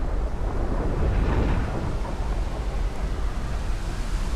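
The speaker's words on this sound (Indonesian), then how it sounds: "Malam itu hujan turun sangat deras." Heavy night rain pours in a dense, steady roar with low rumbling thunder underneath, a loud continuous storm wash with no voices.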